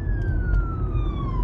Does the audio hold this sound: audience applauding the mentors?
no